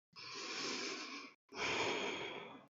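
Two long, steady breaths close to the microphone during a yoga breathing exercise, a slow airy inhale followed by a soft exhale, with a short pause between them.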